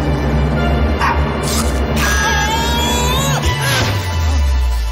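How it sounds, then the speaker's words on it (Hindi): Cartoon dog barking in the background of an animated Motu Patlu scene, a few yips and bow-wows mixed under music and sound effects, moderately loud throughout. "देखो बैकग्राउंड में डॉग भौंक रहा है"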